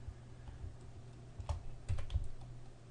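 A handful of computer keyboard key presses and clicks come in a short irregular cluster, quiet and close, with no talk.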